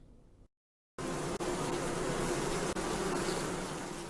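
Dense swarming buzz of bees in beehives, a loud, continuous droning hum close by that starts abruptly after a short silence and carries on unbroken, with no voices.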